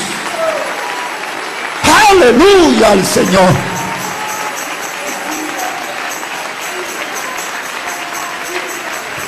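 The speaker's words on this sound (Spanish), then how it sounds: "Dale ese aplauso a Jesús." A church congregation breaks into applause and cheering during worship, with someone shouting praise loudly over the crowd, then the clapping continues as a softer, steady wash in the background.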